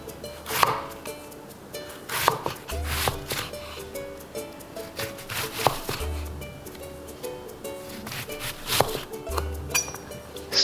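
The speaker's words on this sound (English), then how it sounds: "Cut onion into wedges." A knife chops an onion into wedges on a board for miso soup, with a series of sharp, fairly close cuts at an uneven pace and short pauses between them. No one speaks.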